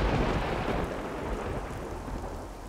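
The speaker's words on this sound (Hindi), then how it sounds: "लो, बारिश शुरू हो गई है" Heavy rain starting with a deep rolling rumble of thunder, a loud continuous downpour hiss over low booming that eases slightly toward the end, no voices.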